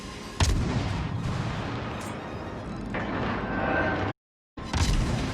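Heavy naval gunfire from a German T-61 destroyer shooting armor-piercing shells in World of Warships Legends: a loud, sustained rumbling barrage of booming salvos with sharp blasts, a brief dropout, then another blast.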